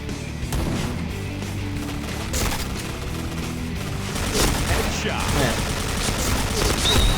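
Video game gunfire in a shooter, rapid shots and bursts rattling steadily throughout, loud and close, mixed with game sounds, while a player talks over it.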